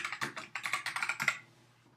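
Quick bursts of typing on a computer keyboard as a Photoshop layer name is entered: about a dozen close, light keystrokes in a rapid, uneven run, then the keyboard stops and goes quiet.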